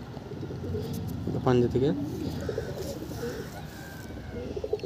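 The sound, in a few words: pigeons cooing in a pigeon loft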